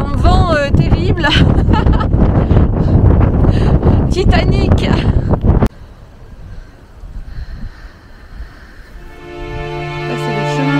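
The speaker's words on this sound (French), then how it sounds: "Là, il y a un vent terrible." Strong wind buffets the microphone in the village of Polignac, France, a rough, low roar that runs under someone talking and then continues alone, rising and falling in gusts.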